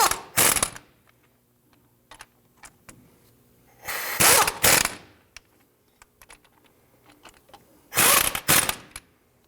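A ratchet tightens hub bolts on a Jeep Grand Cherokee in three loud bursts of rapid clicking, with quiet pauses and faint tool handling between them.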